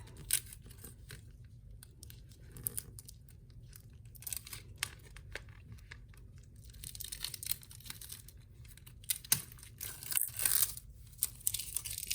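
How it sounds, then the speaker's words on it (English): Adhesive tape is pulled and pressed down onto clear vinyl for an in-the-hoop embroidered stadium bag, making faint, scattered crinkles and short tearing rasps over a quiet room, louder toward the end. "I'm going to tape that down so that the presser foot will go straight over the stitching right here."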